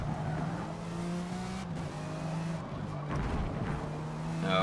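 A Group C race car in Forza Motorsport at VIR spins out, its engine droning with shifting pitch while tires squeal and skid, close and loud throughout.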